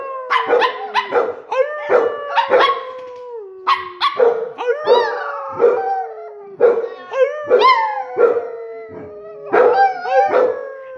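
A dog howls repeatedly and loudly up close, long wavering descending wails mixed with yips and barks in an irregular run that fills the whole stretch.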